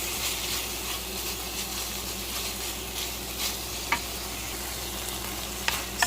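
Ground beef with seasoning mix fries in a pan as a pizza topping, giving a steady close sizzle with occasional scraping clicks from stirring and no talking.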